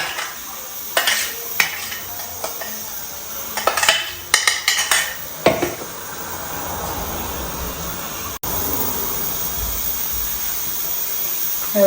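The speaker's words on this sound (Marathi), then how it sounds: "या डब्यामध्ये हा मसाला मी पूर्ण काढून घेणार आहे" A spoon scrapes finely ground masala out of a metal tin during Holi preparations, with a burst of sharp metallic clinks and scrapes at close range, followed by a steady low background hiss.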